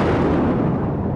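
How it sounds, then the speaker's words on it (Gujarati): Loud, dense bursts of firecrackers going off nonstop, a continuous crackling roar with no pauses and no talking. "જોર જોર થી ફટાકડા ફોડો યાર"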